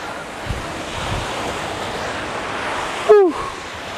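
Ocean waves at Bingin Beach in Bali: a steady, washing surf roar with gentle swells, mixed with wind noise buffeting the microphone, and a short sharp artificial tone near the end.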